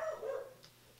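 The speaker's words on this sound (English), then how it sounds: "my dog is barking" A dog gives a single short bark indoors, moderately near, fading quickly into quiet room tone.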